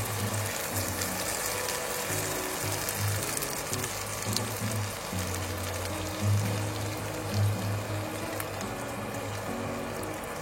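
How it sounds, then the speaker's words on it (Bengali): Water poured into a pan of paneer curry cooking on the stove, a steady close hiss and sizzle with bubbling that runs throughout without pause, no talking. "আমি একটু নেড়ে নিয়ে এবারে জল অ্যাড করব।"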